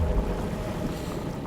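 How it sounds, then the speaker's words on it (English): Steady low rumble of water rising and churning in the video game No Rest for the Wicked, a continuous wash with a windy, surf-like roar, moderately loud and unbroken, with no voices. "This is going to raise the water level."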